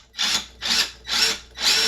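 A power drill whirs in four rhythmic bursts, biting into a wooden 2x4 stud with a gritty, buzzing tone, close and loud.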